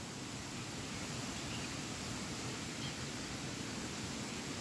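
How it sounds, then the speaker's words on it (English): Mountain water stream in the Himalayas during rain, a constant dense rushing hiss that stays even and fairly close throughout, with no voices. "a lot of water flowing"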